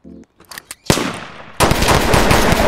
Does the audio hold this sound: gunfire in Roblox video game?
yes